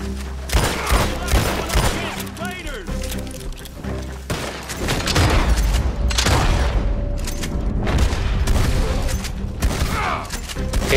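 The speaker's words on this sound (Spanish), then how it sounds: "Ok, tres escopetazos." Heavy shotgun blasts boom from a gunfight in Red Dead Redemption Online, several loud bursts spread across a busy, dense battle mix with other game sounds layered underneath.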